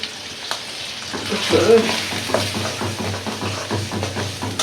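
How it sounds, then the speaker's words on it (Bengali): Onions frying in a pan for a gourd and prawn curry give a steady close sizzle with stirring scrapes and clinks, and a few faint voices come through underneath. "পেঁয়াজটা ভাজা ভাজা হয়ে গেছে"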